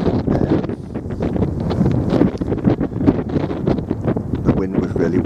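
A person talks while strong wind blows across the Harlech sand dunes, the gusts rumbling and rustling loudly against the microphone beneath the speech.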